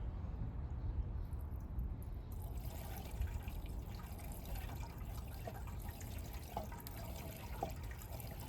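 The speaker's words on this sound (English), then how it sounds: "I'm gonna pour some new gas in here and see if it's leaking from anywhere." Gasoline pours into the fuel tank of a 2021 Yamaha XT250 motorcycle, a faint steady liquid trickle with a few small drips, no talking.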